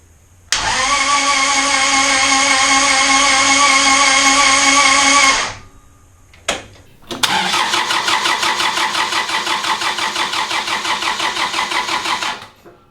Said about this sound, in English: high torque starter motor fitted and ready to be tested.